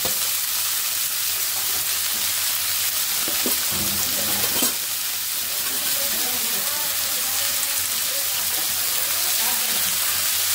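A magenta-coloured vegetable fries in oil with a steady loud hiss and crackle, close by, with a few clatters of a utensil partway through and occasional faint voice in the background.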